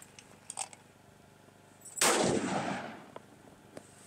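A single loud .300 Win Mag rifle shot fires silver tip API ammunition at medieval armor outdoors, a sharp blast with a long rolling echo after a few faint clicks.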